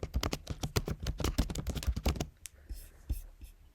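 Quick keystrokes on a computer keyboard, typing a file name for an image, clatter close and crisp for about two seconds before tapering to a few scattered clicks in near silence.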